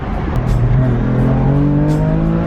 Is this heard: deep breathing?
no